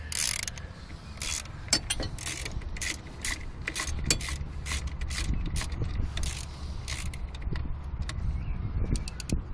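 A ratchet loosens the power steering and alternator belt tensioner on a 1997 Subaru, with a long series of close, crisp clicks in repeated bursts over a low background rumble.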